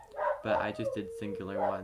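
A dog barks in a few quick yips from somewhere nearby in the house while a person talks over it.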